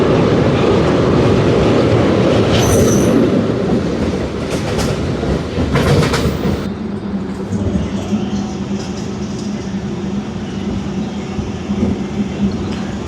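A MEMU passenger train on the Vijayawada–Guntur line runs on its rails near the Krishna river, a loud rolling rumble with clickety-clack, sharp squeals and a shift to a steadier, quieter drone partway through; someone talks faintly underneath.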